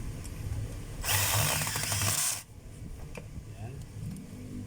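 A power tool whirs loudly for about a second and a half, driving a screw into the gearbox of a DWP849X polisher, then cuts off, leaving low background noise.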